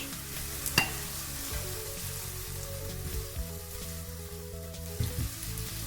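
Chopped ham sautéing with butter and onion in a pan for gluten-free, lactose-free croquetas, a steady close sizzle with a few sharp clinks of stirring and no voices.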